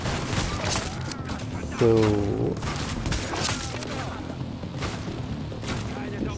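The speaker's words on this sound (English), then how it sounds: "just use a flame grenade" A flame grenade bursts in the shooter The Division, a sudden booming whoosh amid ongoing gunfire and rumbling combat noise, with someone talking over the fight.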